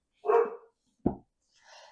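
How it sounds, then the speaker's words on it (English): A dog barks indoors in two separate short, sharp woofs close to the microphone, followed by a fainter higher whine or yip. "Yes, my dog just started barking relentlessly."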